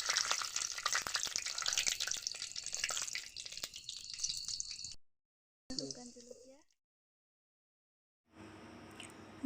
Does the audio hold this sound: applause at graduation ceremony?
no